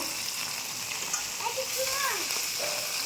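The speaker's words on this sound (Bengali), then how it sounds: "আবার একবার ভাজবো।" Fish frying in hot oil in a pan sizzles with a dense, steady crackle, close and fairly loud, while a voice speaks briefly over it.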